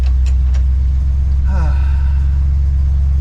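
The engine of a 1982 Dodge Ramcharger W150 truck runs with a loud, steady low rumble close by, and a voice speaks briefly over it partway through.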